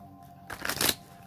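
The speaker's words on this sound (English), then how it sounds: "Let me do one more shuffle." Tarot deck being shuffled by hand, a short burst of papery riffling and card friction that swells then fades, close and fairly quiet, with no talking.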